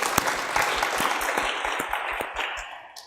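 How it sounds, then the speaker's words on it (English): Audience applause at a taxation panel discussion event, a crowd clapping steadily and fairly close for about three seconds, slowly thinning toward the end, with no talk over it. "You can give him a round of applause as well."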